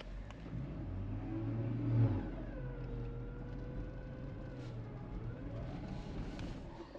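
A Jeep's engine revs gently while winching in snow, a steady low drone that swells briefly early on and then settles into an even hum, with no talking.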